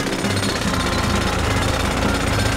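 A loud, continuous power drill with a pencil bit grinds at close range, steady and unbroken for the whole stretch.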